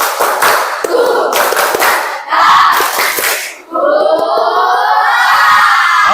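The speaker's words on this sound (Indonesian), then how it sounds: "Oke, 1, 2, 3, tepuk semangat." A class group does a rhythmic spirit clap, loud patterned clapping in quick bursts with short pauses, followed by a crowd shouting together.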